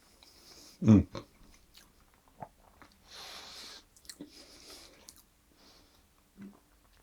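Someone bites into and chews a fruity muffin made with soaked mixed dried fruit and a thin baked crust on top, a sharp close bite followed by soft, moist chewing and small crunches, quiet and without talk.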